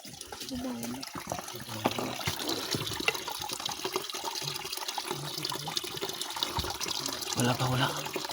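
Water runs steadily outdoors, a continuous rushing and splashing with people talking over it.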